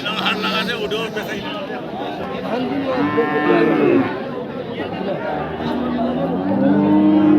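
Crossbred Friesian cows mooing repeatedly amid a busy livestock market crowd, with people chattering nearby throughout.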